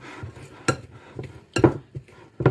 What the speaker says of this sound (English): mixing this together with my pastry blender